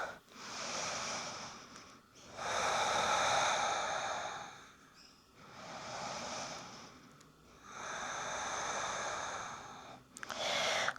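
Slow, deep in-and-out breaths during a yoga session, about four long airy inhales and exhales with short pauses between, close and steady with no talking.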